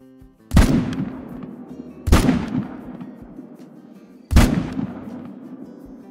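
Three loud, booming rifle shots spaced a couple of seconds apart, each with a long echoing tail, fired at bighorn sheep in a hunting video game.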